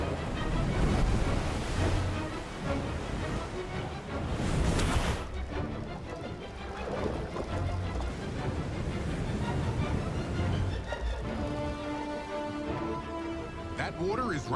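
Floodwater rushes in as floodgates open during a flood protection product demonstration, a loud continuous broadband roar of surging water with wind-like noise throughout, with people talking under it.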